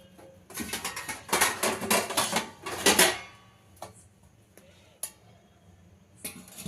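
A metal plate clatters and scrapes as it is set upside down over a pot of salt for baking a cake, followed by a couple of sharp, isolated clicks in a quiet room.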